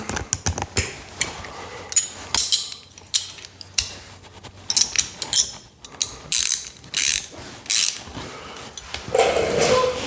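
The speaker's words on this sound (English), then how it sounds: "And I'll need a wrench to hold on to the other side. Throw that on the extension here." A ratchet wrench on an extension loosens the muffler bolts on a Kawasaki KLR 650, with loud, close bursts of rapid clicking separated by brief pauses and no talk.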